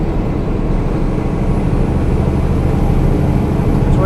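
Semi truck engine droning steadily and loud while the driver skip shifts from 7th down to 5th gear, a continuous low rumble with no talk.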